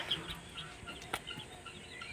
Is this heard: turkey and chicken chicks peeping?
yes